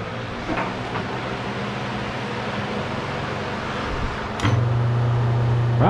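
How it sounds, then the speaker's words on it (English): A fan runs steadily in a workshop, a constant broadband whir that gets louder and takes on a low hum partway through, with a couple of brief clicks and no talking. "Sorry, gonna have some fan noise."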